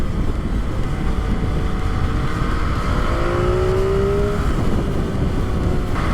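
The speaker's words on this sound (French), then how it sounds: "Ah, le moteur est trop bon quoi. Il a une sonorité de dingue." An MV Agusta 2020 motorcycle engine is heard while riding, a steady droning roar with a rising whine as the revs climb, loud and close against constant wind noise, with no talk.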